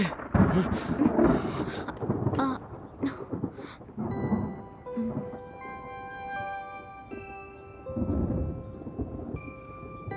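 Thunder rolls in heavy bursts during a rainstorm in a dubbed drama scene, loud rumbles at first that ease off, with rain noise underneath and sustained musical tones entering partway through.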